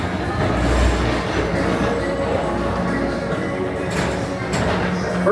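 The Tomorrowland Transit Authority PeopleMover ride at Walt Disney World rolls along with a steady rumbling hum and faint wheel and track noise, close and continuous, with a voice talking faintly in the background.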